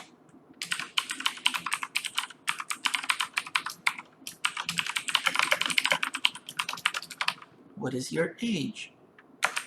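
Rapid keystrokes on a computer keyboard while entering data for a Java program, close and busy for several seconds, followed by a short burst of speech near the end.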